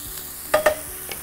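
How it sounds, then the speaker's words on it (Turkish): Onions cook in a pan with chicken, giving a soft steady sizzle with two brief louder stirring scrapes near the middle. "Soğanlar da yavaş yavaş pişmeye başlasın"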